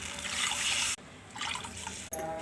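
Water runs and splashes as three cups are poured into a pan for coconut upma, a close, steady liquid rush broken by short pauses.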